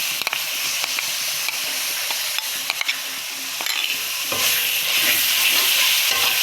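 Mixed ground spices with salt, turmeric, chilli, cumin paste, onion and garlic frying in a pan for katla fish curry, a loud steady sizzle with scraping stirs throughout and no speech.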